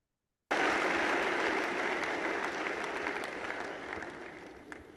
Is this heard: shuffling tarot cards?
no